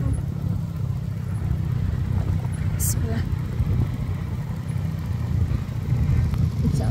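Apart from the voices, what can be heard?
motorcycle engine on mountain footpath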